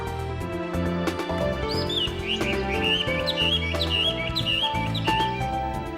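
Small birds chirp in quick, bright bursts of short tweets, fairly close, over a bed of soft background music.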